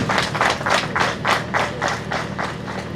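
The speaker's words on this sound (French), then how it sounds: "que je vous prie d'applaudir encore une fois, s'il vous plaît" Audience applause at the launch of a book festival, with steady rhythmic clapping from a crowd pulsing in waves throughout, fairly loud and close, with no talk over it.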